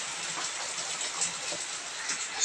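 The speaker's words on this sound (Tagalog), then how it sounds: "ngayon, umaga maulan-ulan na." Steady morning rain hissing outdoors, a soft continuous wash of falling drops with faint patters, moderately close and with no talk over it.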